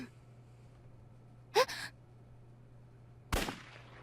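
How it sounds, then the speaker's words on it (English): A single gunshot rings out in the visual novel game Memory's Dogma, a sharp, loud crack alone over a quiet background hum, coming just after a brief breathy gasp. "A second later, I hear a gunshot."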